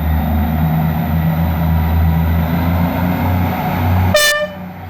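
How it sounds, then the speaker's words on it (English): A Northern Class 158 diesel multiple unit, number 158901, rumbles loudly at Meadowhall station as it departs for Sheffield, its engine droning steadily until a short, sharp two-tone horn blast near the end. "Now departing DO 851 Northern Series from Leeds to Sheffield."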